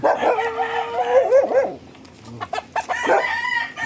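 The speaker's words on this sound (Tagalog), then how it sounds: "Ito na yung mga manok na sabungin, eh." Gamecocks at a farm crow and cluck loudly and close by, with a long rooster crow at the start and scattered clucks and further crowing afterward, plus a dog barking among them.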